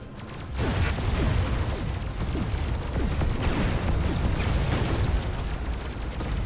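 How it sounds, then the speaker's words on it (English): Mortar explosions in a video game land as a dense, continuous barrage of booming blasts, loud and close, rumbling steadily for several seconds with no talk over them. "that mortar is going to one-hit me"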